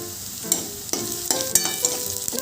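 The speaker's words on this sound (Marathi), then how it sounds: "मी कढईमध्ये तेल गरम करून 2 मोठे कांदे चिरून परतून घेत आहे।" Two large chopped onions with mustard seeds, cumin and garlic fry in hot oil in a kadai, a close, lively sizzle marked by repeated sharp clinks and scrapes of stirring, with no voices.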